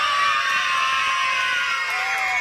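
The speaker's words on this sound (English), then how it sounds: "On the count of 3, just yell at the top of your lungs" A crowd of children at an outdoor summer meals program kickoff yell together at full volume in one sustained, loud, high-pitched roar that holds for a couple of seconds.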